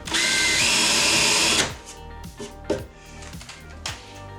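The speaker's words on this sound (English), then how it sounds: "drive the screw in" A power drill drives a screw into a countersunk hole in a table-saw sled fence, with one loud, steady whir lasting about a second and a half before stopping. A few quieter knocks and clicks from handling the wood follow.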